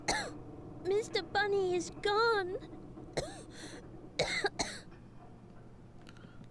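A voice in the PS2 game Rule of Rose gives several short, suppressed coughs and throat-clearing sounds between nervous spoken lines, close and fairly quiet, with a faint background hum.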